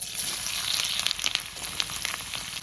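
Chopped carrot dropped into hot oil in a pan, giving a steady crackling sizzle with bright spitting pops throughout, close and moderately loud, with no talking.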